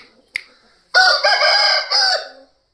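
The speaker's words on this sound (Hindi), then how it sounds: "दूसरा कुकड़" Aseel rooster crowing close by, one loud drawn-out call in several strained segments, preceded by a sharp click.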